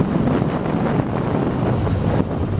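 Steady, loud wind buffeting the rider on an open highway aboard a heavy 2018 Yamaha Bolt motorcycle, a continuous low roaring rush with no pauses.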